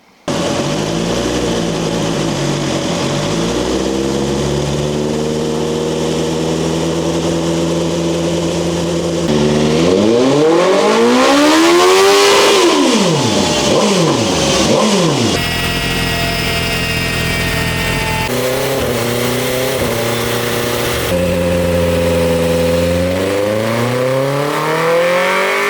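A 2021 BMW S1000R motorcycle engine revs hard on a dyno, a loud sustained wail sweeping up and down through the gears, with a sharp rise to a screaming peak midway, abrupt drops at each shift, and a final high run.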